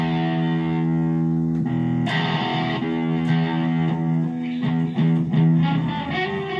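Electric guitar played through an echo effect, sustained distorted chords ringing out with repeating echoes, then a run of sharper picked notes and strums growing busier and louder toward the end.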